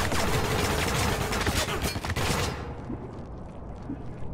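Light machine gun fire in the multiplayer shooter Spec Ops: The Line, a loud sustained burst of rapid shots that cuts off after about two and a half seconds into quieter, muffled background.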